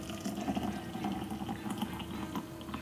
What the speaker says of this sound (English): fill the thermos with boiling water